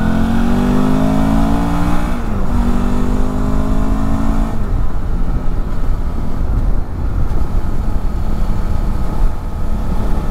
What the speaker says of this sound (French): Ça fait un petit son sympa quand même, hein, petit son de bicylindre